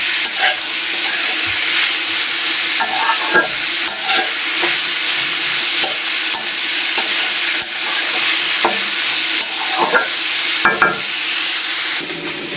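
Greens and potatoes fry loudly in a pan, a steady close sizzle and hiss running throughout, broken by intermittent clicks and scrapes of a stirring spoon; no one speaks.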